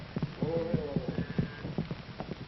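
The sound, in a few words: horse hooves clip-clopping, cow ponies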